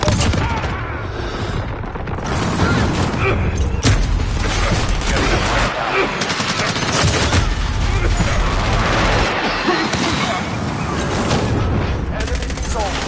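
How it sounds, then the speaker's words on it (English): Dense, continuous battlefield din from a Call of Duty match, with airstrike blasts, rapid gunfire and booming impacts layered throughout, loud and close, with a voice speaking over the chaos. "Enemy airstrike. Get down."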